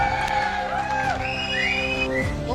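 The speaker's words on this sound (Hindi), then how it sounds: "तालियां हो जाए दमदार वाले" An audience at a Hindi motivational talk whistles and cheers loudly and continuously, with shrill rising whistles over a dense crowd roar.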